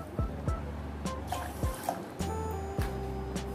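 Water is poured from a bowl into a pot of sugar to make syrup, heard up close as short trickles and splashes broken by light clinks against the pot.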